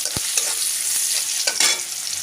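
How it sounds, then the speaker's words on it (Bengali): Onion and a dried red chilli fry in hot oil for an egg and potato curry while being stirred, giving a steady close sizzle broken by a few scraping strokes, with no talking. "পেঁয়াজ আর একটা শুকনো লঙ্কা ফোড়নে দিয়ে ভালো করে তিন ভাজা তেলের সঙ্গে মিশিয়ে নিচ্ছি"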